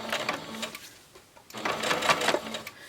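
A sewing machine stitches the seam of a quilted, batting-lined fabric bowl cozy and then reverses to backstitch, running in two close, steady bursts split by a short pause.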